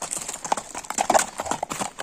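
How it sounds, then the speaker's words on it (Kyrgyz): A bay horse's hooves clip-clopping nearby, quick uneven knocks close to the listener, with faint snorts. "Мына карагерди көргүлө жаныбар."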